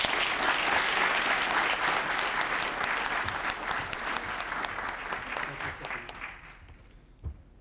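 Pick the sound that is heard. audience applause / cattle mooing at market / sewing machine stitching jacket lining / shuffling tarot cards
audience applause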